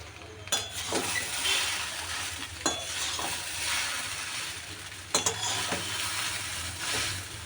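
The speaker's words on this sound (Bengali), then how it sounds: "এই যে তেল গরম হয়ে গেছে এবার ছেড়ে দিই তৈরি করে নিই" Chow mein noodles frying and being stirred in hot oil in a home kitchen, with a steady sizzle broken by a few sharp clinks and scrapes of a utensil against the pan.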